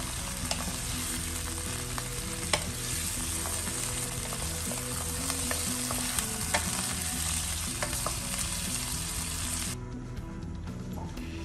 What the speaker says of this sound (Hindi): इतना टाइम जब तक ये अपना कलर बदल लेगा तब तक हम इसे करेंगे फ्राई